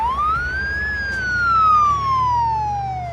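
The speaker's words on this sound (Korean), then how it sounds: "잠시 뒤 신고를 받은 구급차가 도착하고" An ambulance siren wails loud and close, a single sweeping tone rising and then slowly falling, with a low vehicle rumble beneath.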